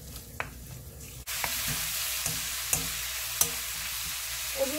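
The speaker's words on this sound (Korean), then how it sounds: "오징어를 3분의 2 정도 익도록 볶아줍니다." Squid stir-frying in hot cooking oil in a wok, a steady close sizzle with sharp metallic clinks and scrapes of a utensil at irregular intervals, no talk.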